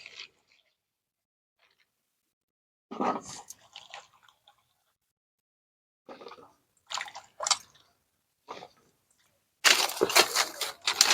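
Cut taro stolons being washed by hand in water: short, separate bouts of splashing and dripping with quiet gaps between them, ending in a longer, louder churn of water close by.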